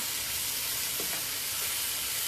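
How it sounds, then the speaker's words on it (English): Shrimp sautéed in a hot pan, a loud steady hiss of frying that stays even throughout, close and continuous, with faint stirring movements underneath. "So we're going to saute those around"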